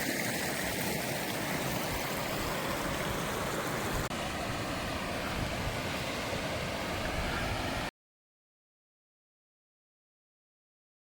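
Bear Creek, a mountain stream along a high trail, rushes in a steady, dense wash of water noise for several seconds before going abruptly silent.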